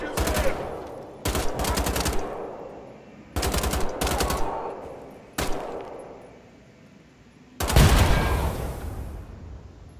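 Shotgun fire in Wolfenstein: The Old Blood, a series of loud, sharp blasts in uneven bursts with reverberant tails, the final shot heaviest, and little else around them.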